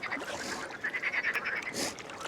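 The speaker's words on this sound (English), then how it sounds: "There are frogs that just do quack, quack, quack." Frogs calling beside the Ardèche river, a short burst of rapid, nasal quack-like croaks in quick succession, close and moderately loud, with no talking.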